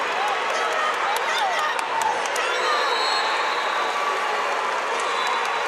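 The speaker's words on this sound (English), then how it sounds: "Now I think the reaction from the crowd is over there on mat 8" A state high school wrestling tournament crowd in a busy arena, a continuous wash of distant cheering and murmuring with scattered shouts and squeaks throughout.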